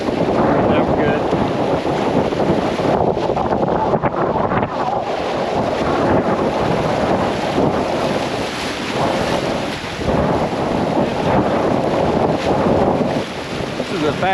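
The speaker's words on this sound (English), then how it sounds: "This is the fastest rapids we've been on today." Rushing whitewater on the Arkansas River heard from a boat running rapids, a continuous loud roar of churning water mixed with heavy wind buffeting the microphone throughout.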